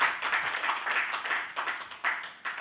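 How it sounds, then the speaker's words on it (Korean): A church congregation claps in thanks at a 37th-anniversary Sunday service, a dense, lively burst of many hands clapping close by, with small surges near the end. "자, 우리 하나님 감사의 박수 한번 뜨겁게 드리십니다"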